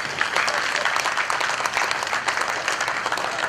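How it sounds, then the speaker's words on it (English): A crowd claps steadily throughout, a continuous, even patter of many hands at moderate loudness with no pauses. "So can I ask you to give a big round of applause to yourself."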